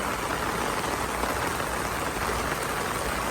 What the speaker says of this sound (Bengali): দেখতে পাচ্ছেন প্রচুর পরিমাণ বৃষ্টি হচ্ছে